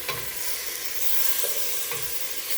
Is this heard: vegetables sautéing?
yes